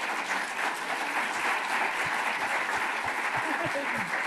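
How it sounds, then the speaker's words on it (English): Broad, steady applause from an audience at a community event honoring Black Angeleno trailblazer families, a continuous mass of clapping with faint voices mixed in beneath it. "Let's give them a round of applause."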